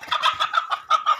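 A rooster clucking repeatedly as it is being caught, about half a dozen loud, close, agitated squawks in quick succession with no talking.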